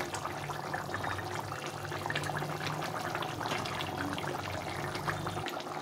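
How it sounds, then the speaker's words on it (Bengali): Rui fish curry boiling in a pan makes a continuous close bubbling and simmering of liquid, soft and even throughout, with no talk. "ঝোলটা ফুটে গেছে"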